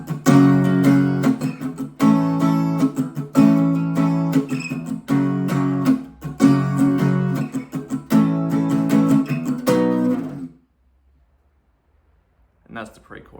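An acoustic guitar strums the pre-chorus chords of a song in a rhythmic, percussive pattern with chord changes, close and loud, then stops and leaves a short silence.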